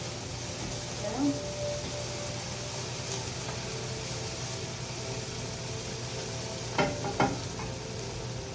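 Onions fry in a pan with a steady sizzle, and a few scraping stirs cut in near the end, close and soft.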